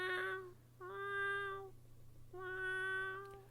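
A cat meows three times as an audiobook sound effect: a short call, then two longer drawn-out meows with a pause between, clear and close against a faint low hum.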